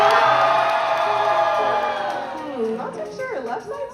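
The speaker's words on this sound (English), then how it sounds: "Wow, what a great cheer." A pageant audience section cheering and whooping together, a loud crowd roar that fades over a few seconds into scattered yells and individual voices.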